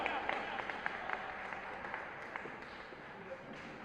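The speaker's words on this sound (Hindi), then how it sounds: "बहुत सारी तालियों में आइए" An audience at a poetry recital applauds to welcome a poet to the stage: faint, distant clapping with scattered sharper claps, steady throughout the short stretch.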